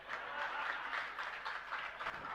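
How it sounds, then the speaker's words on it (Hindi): Audience applause at a Jain religious discourse, a steady wash of many hands clapping throughout, moderately faint and continuous with no voice over it. "क्योंकि आपकी ताली बज रही है।"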